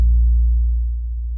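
An 808 bass note without a slide in a song remake: a single deep sustained sub-bass tone, loud and clean, fading slightly over about a second and a half.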